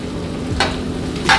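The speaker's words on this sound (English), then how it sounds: "once that butter gets nice and melted in there, I'm gonna add my pork chops" Pork chops fry in melted butter in a pan with a close, steady sizzle, broken by two short bursts of hissing or spatula scrapes.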